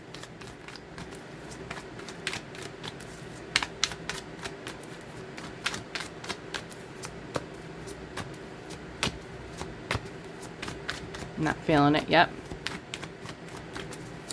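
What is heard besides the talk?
shuffling a tarot card deck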